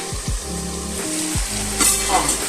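Chicken korma sizzles and crackles steadily in a hot pan after a splash of water, a continuous close frying hiss with a few low knocks and stirring bumps, no voices.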